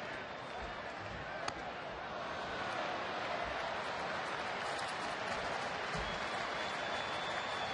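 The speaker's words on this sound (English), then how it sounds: "They're cheering his foul balls in there" A baseball crowd at a Phillies home game against Atlanta at a ballpark in Philadelphia, with broad sustained cheering and applause rising slightly and holding steady, a distant roar under a commentator's voice.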